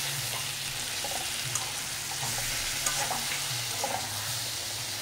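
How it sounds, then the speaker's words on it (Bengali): A mustard and poppy seed mixture sizzling steadily in a pan while a spatula stirs it in slow, repeated sweeps, with light clinks against the metal. "এবার এটা ভালোভাবে এটার সাথে মিশিয়ে নেব"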